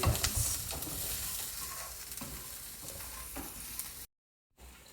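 Paprika, cayenne and oregano toasting in a pan for empanadas, a steady close sizzle with occasional stirring scrapes, cutting off briefly near the end, no talk.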